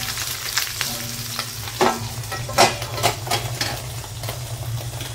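Fish wrapped in banana leaf fries in a covered pan, giving a steady close sizzle over a low hum, broken by a few clinks and scrapes from the lid or utensil.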